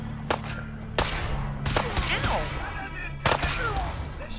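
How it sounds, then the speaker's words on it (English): Gunfire in the video game Fallout 4: several sharp shots at irregular intervals, with clangs and impact sounds in a busy combat mix under a steady low game hum. "stop shooting at me!"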